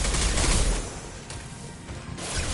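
Gunfire in the video game Mass Effect 2: a loud burst of shots and crashing impacts at the start, then a quieter spell and another swell of firing at the end. No voices.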